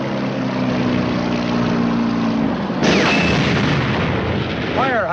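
A 90mm tank gun fires a single heavy boom at a German Panther tank in a 1951 WWII war film, cutting through a droning engine hum, followed by lingering rumble and a rising whistling sweep.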